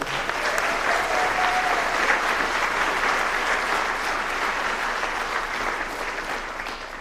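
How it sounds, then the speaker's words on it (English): Sustained, dense applause from a large audience at a school alumni and athletic hall of fame induction ceremony, steady and loud throughout with a slight fade near the end. "let's put our hands together"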